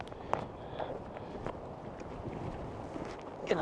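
Strong wind gusting through snow and trees on a park walk, a steady rushing roar close to the microphone with occasional buffeting bursts.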